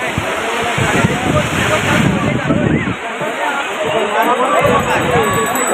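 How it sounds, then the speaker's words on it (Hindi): A dense crowd packs Marina Beach in Chennai, a steady wash of babble and movement with surf sloshing in close and loud throughout, voices blurred together rather than distinct. "कचाकच भीड़ दूर दूर तक"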